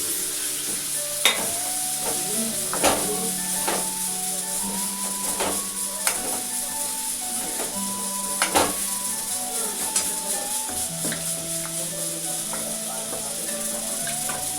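Long-cut potato and eggplant pieces sizzle and fry in a pan, with repeated utensil scrapes and clinks over a steady hiss.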